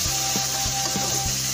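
Vegetable masala noodles are stirred and tossed in a pan, rhythmic scraping strokes repeating over a soft steady sizzle, close and moderately quiet, with no voices.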